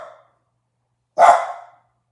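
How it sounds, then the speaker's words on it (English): A single loud bark close by after a brief faint sound, then silence. "Yeah, the dogs are barking."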